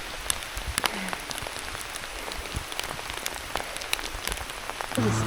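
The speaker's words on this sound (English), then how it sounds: "that rain stings" Rain patters steadily on a cyclist during the 2026 Coulee Challenge 1200k randonneuring ride in Minnesota, a dense, even hiss of drops with scattered sharper taps, moderately loud and unbroken, with no talk.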